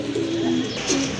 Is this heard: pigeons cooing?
yes